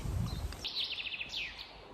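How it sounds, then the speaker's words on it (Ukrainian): A small bird sings a quick, high trilling phrase after a low rumble, fairly faint and alone against a quiet background. "Пташки як співають."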